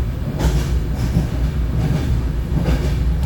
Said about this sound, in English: We are crossing the Kerala Sampark Kranti Express at Ankola.